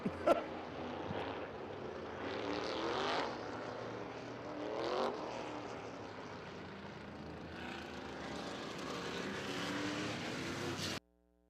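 Open modified race cars in a heat race at Midvale Speedway, a constant roar of engines from a distance with louder swells as cars pass nearby, then an abrupt cutoff.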